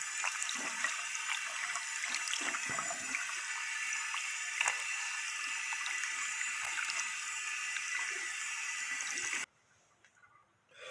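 Clear water runs steadily from a tap as the rollers of a Kärcher FC3 cordless hard-floor cleaner are rinsed, a continuous close splashing rush that stops abruptly near the end, leaving quiet.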